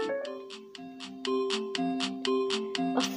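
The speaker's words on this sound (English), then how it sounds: "stop with the notifications" Repeated electronic notification chimes from a phone during a Baldi's Basics Classroom game session, a rapid series of bright tonal beeps and melodic blips stacking over one another for about three seconds, fairly quiet and with no talking.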